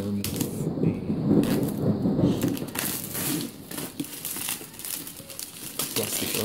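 Plastic wrapping crinkles and crackles as it is pulled off the box of a Corsair Hydro Series H55 liquid CPU cooler, a dense, close rustle that is loudest early on and then eases into scattered crackles.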